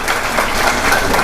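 Audience applause at a church prayer gathering, a brief, continuous wash of many hands clapping, moderately loud and diffuse, with no talk over it.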